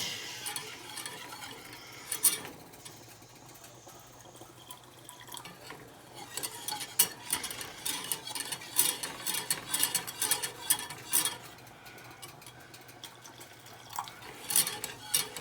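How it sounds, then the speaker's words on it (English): Gravy is whisked in a pan over medium heat, the whisk rattling and ticking against the metal in quick irregular bursts that grow busier after a quieter start. "you're going to whisk it frequently till it starts coming to a boil"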